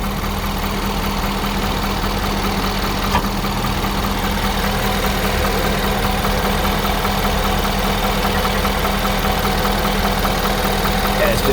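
The engine of a 2011 AT200 bucket truck idles steadily close by, a loud even rumble with a faint knocking beat, while people talk over it.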